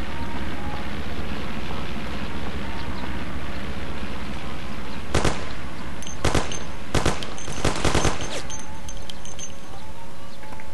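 Gunfire from the Mafia video game, with several sharp shots and short bursts over a constant background drone, fairly loud and close.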